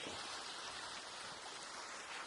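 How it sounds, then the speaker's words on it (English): Steady, even rain hiss in the video game Arc Raiders, a soft continuous wash of falling water with no voices. "I hate it when it's raining."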